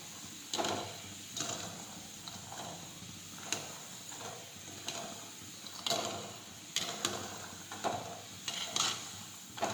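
Peanut bhajiya (shing bhajiya) fry in oil over a very low gas flame, giving a steady close sizzle broken by repeated scraping, clinking stirs of the spoon against the pan.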